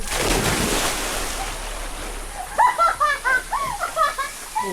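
A person jumps into deep water at a campsite swimming spot in Quezon, with a rush of splash and water noise at first, then scattered splashing and laughter-like calls nearby.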